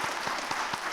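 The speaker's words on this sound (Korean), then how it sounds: "안수 집사님들, 우리 격려 박수 부탁드립니다" A church congregation gives a round of encouraging applause for ordained deacons at a New Year's Day Sunday afternoon service; dense, steady clapping fills the whole short moment.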